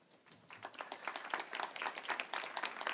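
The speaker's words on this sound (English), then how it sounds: "Ladies and gentlemen, please, with applause, welcome Stefano Skarpeta." Audience applause welcoming an OECD director to the stage at a conference: clapping starts quietly, swells within half a second, then continues as crisp, fairly dense claps at moderate loudness.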